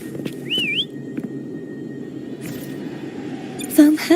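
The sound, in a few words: whistling to call a horse in video game Wuthering Waves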